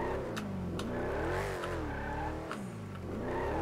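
An old car in GTA V roars with a loud sustained engine note that rises and falls with revving, tyres squealing and skidding over it, close and continuous without talk.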